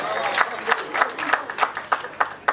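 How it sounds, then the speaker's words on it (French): Audience applause at a village festival in France, a burst of steady clapping from a gathered crowd, fairly close and continuous for a couple of seconds with individual claps standing out. "Mademoiselle Payette Barbara, sous vos applaudissements."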